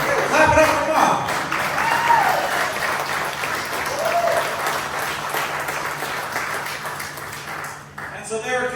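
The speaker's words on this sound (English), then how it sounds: "Clap it up for Mom." Crowd applause and clapping for a mother at a family celebration, a sustained clatter of many hands that slowly thins out, with voices and cheering mixed in before a brief shift near the end.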